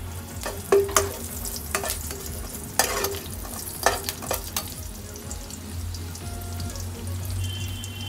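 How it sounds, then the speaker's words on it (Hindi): Chopped chillies hitting hot oil with cumin seeds already browned, a steady close sizzle with sharp clinks and scrapes of a spoon stirring the pan, a low hum running underneath. "अब मैं कटी हुई मिर्च डाल रही हूँ।"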